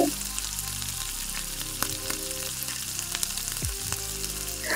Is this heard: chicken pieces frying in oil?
yes